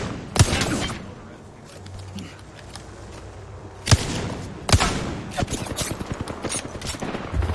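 Gunfire in the video game Apex Legends: scattered sharp cracks and short bursts, some loud and close and others more distant, mixed with game sounds and occasional talk.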